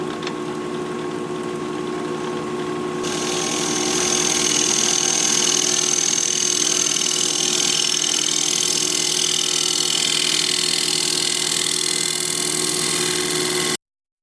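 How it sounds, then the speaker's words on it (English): Pink dogwood bowl spinning on a wood lathe while a negative rake scraper scrapes its surface, a steady hum joined by a louder continuous scraping hiss that swells after the first few seconds and holds until it cuts off. "I'm going to put a fresh edge on my negative rake scraper and we'll scrape."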